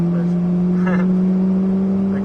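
A Ferrari accelerates while merging onto a race circuit during a driving course, its engine a loud, steady drone heard from inside the car, with a brief voice in the middle.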